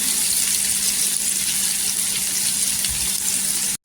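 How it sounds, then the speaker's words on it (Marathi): Sliced onion fries in oil until golden for a snake gourd bhaji, an even, close, continuous sizzle and hiss with faint stirring, briefly cut at the very end. "पूर्णपणे कांद्याचा गोल्डन कलर असा झाला पाहिजे, तेलावर परतून घ्यायचा"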